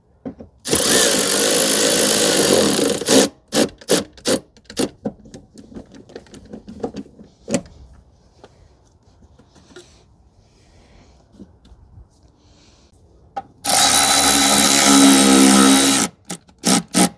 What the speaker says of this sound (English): reinstall the 10 millimeter nuts onto the studs.